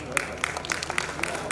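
An audience claps to welcome poet Sarita Jain at a mushaira and kavi sammelan in Wardha. The applause is a dense, steady patter with sharper bursts throughout, and a voice talks over it.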